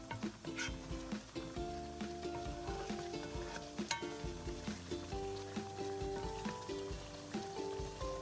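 Spiced paste frying hard on high heat in a pan as it is stirred with a spoon for a Bhuna Gosht, a steady close sizzle with light scraping running throughout, no voices.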